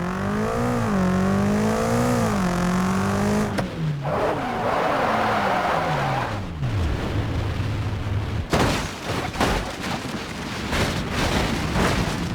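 BMW M5 driving in BeamNG.drive, accelerating to extreme speed against a tornado: a loud, sustained engine roar with rising and falling revs, then heavy rumbling and crashing noise as it is battered.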